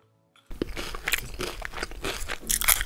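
Loud, close crunching as food is bitten and chewed during a taste test, a rapid series of crisp crackles after a brief silence.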